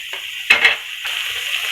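Masala with tomato paste and ketchup frying in hot oil, a steady close sizzle with a brief burst of stirring and pan scrapes midway, no talking.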